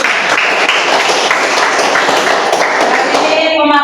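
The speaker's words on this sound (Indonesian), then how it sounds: "tepuk tangan dulu" Classroom applause from students after a group presentation in an accounting lesson, dense steady clapping filling the room at close range, with a faint ringing tone emerging near the end.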